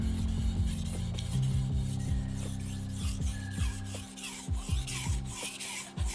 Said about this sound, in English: just when you're working the tip, you can just move your knife around each part of the stone